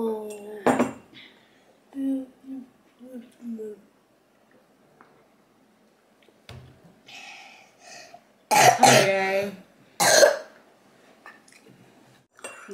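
A young child coughs in a home, a few separate coughs and throat sounds spread over quiet stretches, with light clinks of dishes and cutlery in between.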